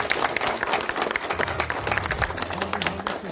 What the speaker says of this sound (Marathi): सर्वांनी टाळ्या वाजून अभिनंदन करतो.